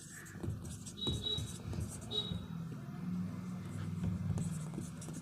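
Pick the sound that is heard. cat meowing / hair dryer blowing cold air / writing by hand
writing by hand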